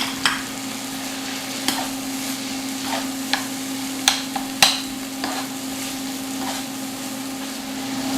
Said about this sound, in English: Gonna add some fresh garlic and some Scotch bonnet pepper because we got to bring the heat